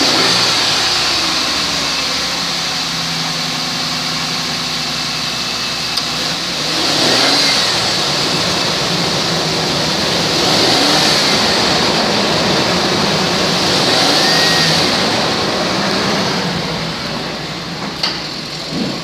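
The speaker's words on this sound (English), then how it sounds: "2004 Ford Explorer, mileage 262, 137, engine run video." A 2004 Ford Explorer with 262,137 miles runs steadily at close range, a continuous mid-pitched engine drone with a couple of gentle rev swells partway through and no talking.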